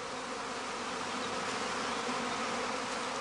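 A honeybee swarm gathers at a hive stand in Germany, its dense, continuous buzzing filling the air at an even loudness from start to finish.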